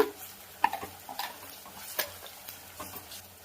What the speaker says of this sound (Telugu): ఆనియన్ ఫ్రై అవుతున్నాయి కదండి